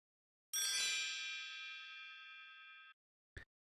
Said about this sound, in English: then I created the square chime. It's just a regular